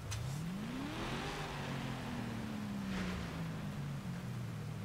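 A Ford Focus RS with gold rims and gold brake calipers drifts in Forza Horizon 5, its engine note rising as it revs, then holding a steady, loud drone that sags slightly as the slide continues.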